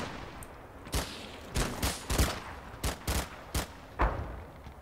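Artillery fire mission in Combat Mission: Final Blitzkrieg, a barrage of about eight loud, sharp blasts landing in irregular bursts over several seconds, with no voices.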